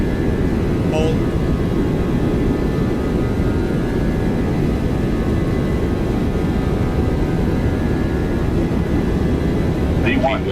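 Boeing 737-800 engines roar at takeoff thrust in X-Plane, a loud, steady broadband rumble with a faint whine that holds unchanged from start to finish, with brief speech surfacing near the start and end.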